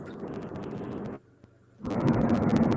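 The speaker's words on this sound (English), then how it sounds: "A little bit of road noise. He's driving down the road." Broadband road noise rumbles through a driving caller's phone microphone, steady and fairly loud, dropping out briefly near the middle before returning stronger.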